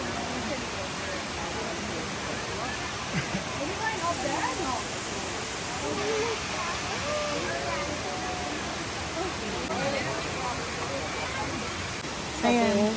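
Bridal Veil Falls near Chilliwack roars as a steady broadband waterfall rush, continuous and loud throughout, with people talking and exclaiming over it.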